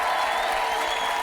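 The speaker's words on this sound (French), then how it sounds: "Je voudrais qu'on applaudisse fort Isabelle, s'il vous plaît" Studio audience on a French TV game show broke into applause, a dense steady wash of many hands clapping with some cheering, loud and close, filling the whole brief moment.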